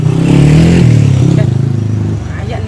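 Motorcycle engine revving loudly and close by, a sustained rough drone that drops slightly toward the end, with people talking in the background.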